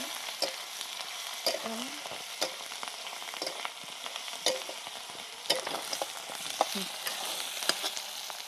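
Garlic and a ground spice paste crackle and sizzle in hot oil for a stuffed capsicum curry, with steady frying and sharp pops up close as a utensil stirs the pan; no speech.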